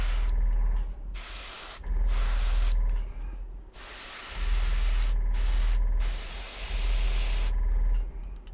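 An airbrush sprays paint onto Warhammer 40,000 Grey Knights miniatures in loud, close, steady hissing bursts of about a second or more, separated by short silences, with no voices.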